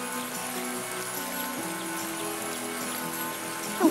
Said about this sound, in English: Rain from a cloud will water our plant.